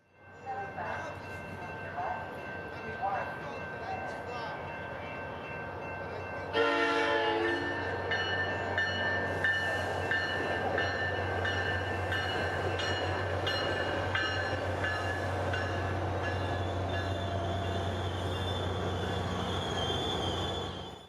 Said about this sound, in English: at 10 a.m. sharp, Sunrail train P315 arrives at the Sand Lake Road station